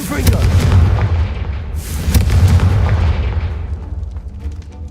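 The Confringo blasting spell in Hogwarts Legacy lands with heavy booming explosions, one early and a second around the midpoint with a sharp crack, each rolling off into a fading rumble amid game audio.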